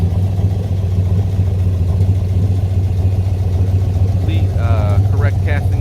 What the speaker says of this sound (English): Really hear the solid lifters in this motor.